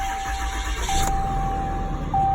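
A 2018 Ram pickup truck's engine turns over and settles into a steady idle, heard up close inside the cab with a brief chime and a rise in rumble near the end.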